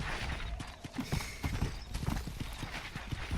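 Horse hooves clip-clop in a steady, fairly close gallop with a brief whinny, in the Western video game Red Dead Redemption during horse breaking and cattle herding.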